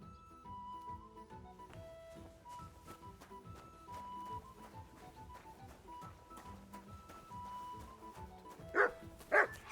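A dog in Kingdom Come: Deliverance II gives two loud barks near the end over rhythmic medieval game music that plays throughout.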